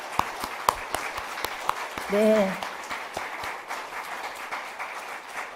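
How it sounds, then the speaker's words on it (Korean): Scattered, moderate applause from a congregation at a church women's association general assembly, with sharp individual claps and a short spoken word from a voice in the middle. "인사해 주실 때 감사의 박수를 드리겠습니다"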